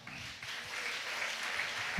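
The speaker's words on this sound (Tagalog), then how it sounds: "Lahat tayo pumalakpak." A congregation in a church keeps up a steady round of applause, broad and even, with a soft rumble beneath the clapping and no talking.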